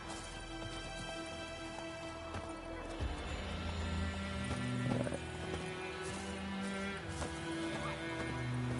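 A horse whinnies in the open world of The Witcher III: Wild Hunt on PS5, with hooves clip-clopping over a steady bed of game music and ambience, the neigh rising clearly around the middle.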